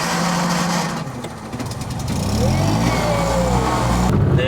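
Inside a Fiat 127-based Zastava Koral, a small Yugoslavian car, the engine drones steadily, then climbs in pitch as it accelerates, with a voice talking over it at times.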